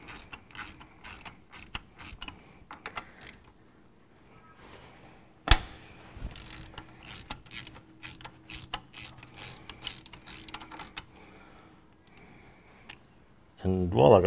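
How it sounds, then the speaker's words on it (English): Ratcheting clicks of a spanner turning a nut on a Ferguson TEA20 tractor engine, scattered near clicks and mechanical rattles with one sharp knock midway and a louder clatter at the end, with a voice talking over parts. "while I've got the spanner here, I may as well just give it a turn"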